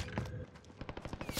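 Bursts of gunfire in the Call of Duty: Warzone battle royale, a rapid run of sharp repeated shots toward the end, mid-distance and fairly loud over a busy in-game background.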